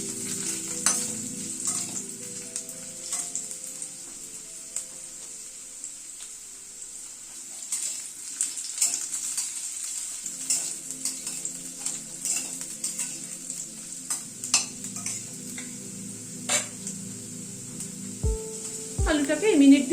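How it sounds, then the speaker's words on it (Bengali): Diced potatoes frying in a pan, a quiet steady sizzle with intermittent stirring scrapes and clatter that grows busier and louder toward the end. "আলুটাকে আগে একটুখানি ভেজে নিচ্ছি।"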